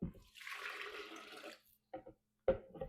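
Vinegar is poured into a pikliz mix of Haitian spicy pickled slaw, giving about a second of gurgling liquid flow, followed by a few short splashes and drips.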